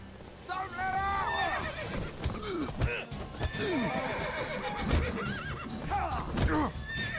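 A horse in The Witcher 3 whinnies several times in rising, wavering calls, with hoof clip-clops and voices around it.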